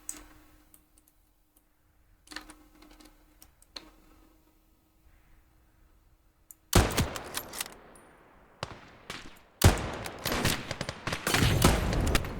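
Artillery fire and gunfire from a WWII Eastern Front strategy game, with quiet scattered clicks early on, then loud bursts of explosions and shots in clusters near the end.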